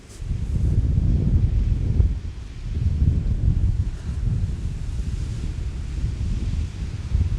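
Strong gusting wind buffets the microphone at a fishing spot during 35 mph wind, with loud low rumbling roar that swells and eases throughout, no voices.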